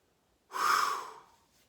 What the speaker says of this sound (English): let's do 3 more whooshes out